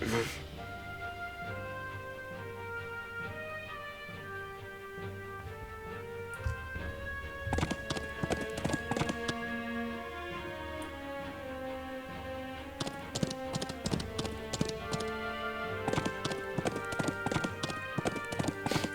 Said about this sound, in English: Horse sounds.